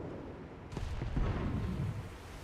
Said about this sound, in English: A lot of things shooting at me.